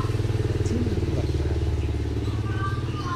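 A motorcycle with a racing exhaust idles and revs with a steady, throaty exhaust rumble, close by and continuous throughout.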